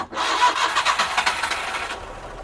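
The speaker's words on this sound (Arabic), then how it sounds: "هسه بنعطيها نكرة سلف." A diesel car engine with a weak battery is cranked by its starter in a Damascus repair shop, giving a loud, steady churning whir with a quick pulsing rhythm for about two seconds before it cuts off.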